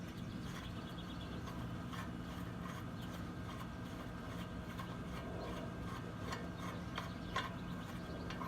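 A bolt is unscrewed on the front brake of a 2014 Chevy Silverado, faint close ratcheting clicks ticking at irregular intervals over a low background hum.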